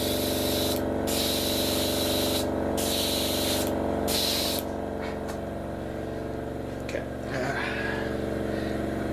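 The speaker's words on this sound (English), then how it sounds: "quickly start spray painting it" Steady hissing spray from an aerosol paint can onto a Revell F-15E 1/48 model kit, coming in several bursts with short pauses between them, close up, over a low steady background hum.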